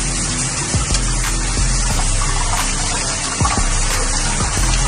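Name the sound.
rinsing jute leaves under running water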